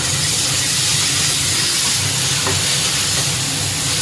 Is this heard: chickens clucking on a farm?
no